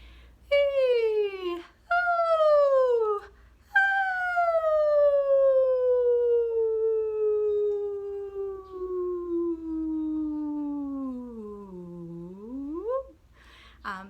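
A human voice imitates a siren, with a few short descending swoops and then one long smooth slide downward that dips and curls back up at the end.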